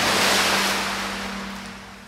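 A frog leaps into a pond with a splash, a burst of watery noise that starts loud and close and then fades away slowly over about two seconds, with no voices.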